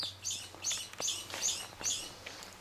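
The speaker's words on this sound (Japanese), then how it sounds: "鳥のさえずりを聞きながら" Birds chirp near a farm field during a morning walk. Bright repeated calls come about every half second, close and clear, over faint outdoor background noise.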